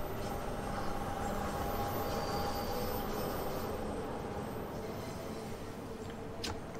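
A London Underground Bakerloo Line train in Train Sim World 2 runs steadily at speed, with a continuous rumbling roar and a faint high wheel squeal, heard alone and fairly quiet.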